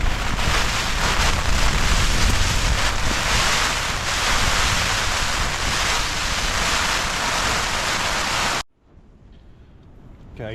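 Strong wind roars and buffets a tent loudly and continuously in Snowdonia, then cuts off abruptly, leaving quiet for the final couple of seconds.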